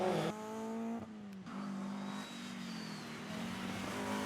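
A rally car engine revs at a charity rally event, its steady harmonic drone rising and falling with a brief dip mid-way, heard somewhat distant and without voices.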